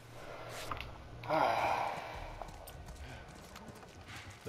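Horses in The Last of Us video game snort and shift with faint hoof movement, a brief breathy burst in the middle over low ambient background, fairly quiet and close.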